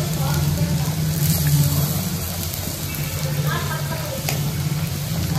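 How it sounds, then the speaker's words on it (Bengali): Pea-filled kachori frying in hot oil, a continuous close sizzle with a low hum beneath and occasional stirring noises, while someone talks over it. "কচুরিগুলো সব ভেজে নিই"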